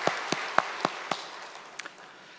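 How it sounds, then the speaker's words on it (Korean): In a Korean church Sunday service on Parents' Sunday, a handful of isolated, sharp hand claps ring out at uneven intervals in a quiet hall, gradually thinning and fading rather than building into full applause. "우리 감사의 박수 드리겠습니다"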